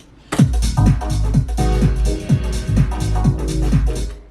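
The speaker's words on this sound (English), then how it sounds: "And we can just make like these cool like reverb effects." Chopped audio sample run through an Eventide Space reverb, with a steady rhythmic pattern of pitched stabs over a deep low rumble and a dense, washy tail filling the gaps, loud and continuous with no talk.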